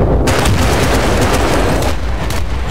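Battlefield combat in Bad Company 2: a grenade blast and rapid gunfire fill the whole stretch, dense, loud and continuous, with sharp repeated shots over a rumbling low end and no voices.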